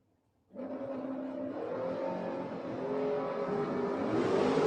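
Drag race at Gainesville Raceway between a Street Roadster and a B2000 pickup truck: engines burst in abruptly after a moment of silence and roar steadily, loud and close, with the revving building toward the end.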